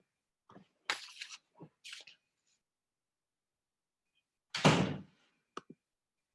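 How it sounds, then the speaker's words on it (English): A door is handled and closed in a room, with a few scattered thumps and rattles early on, then a single louder closing thud and a couple of small clicks after, heard alone without talk. "I gotta close the door."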